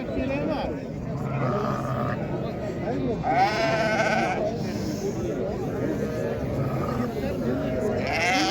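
Sheep and lambs bleat repeatedly at the Qarshi livestock market, with several wavering calls of different pitches overlapping amid a busy crowd. Traders talk over the animals throughout.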